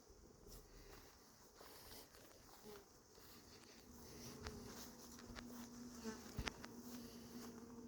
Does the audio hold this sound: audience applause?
no